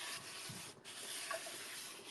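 Steady, hissy sanding close by, a continuous gritty rubbing with a brief pause partway through.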